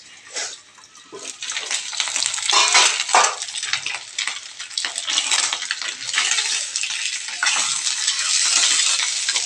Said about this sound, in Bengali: এর জন্য ভালো করে মাছটা ভেজে নেওয়া অতি অবশ্যই জরুরি।